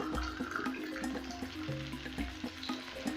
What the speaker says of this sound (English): So at this point, I'll go in with my water.